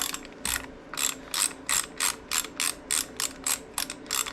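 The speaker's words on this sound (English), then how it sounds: "Take this 1/4" Allen here. Get your ratchet to work properly. Break that bolt free." A ratchet fitted with a 1/4 inch Allen socket clicks in a steady rhythm, about a dozen close, sharp bursts of pawl ratcheting with brief pauses between, working a bolt loose on a Harley Sportster during stator replacement.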